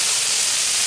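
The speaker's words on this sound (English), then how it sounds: "Let it sizzle." Chicken tenders sizzle on a grill in a loud, continuous bright hiss that fills the short moment on its own with no talk.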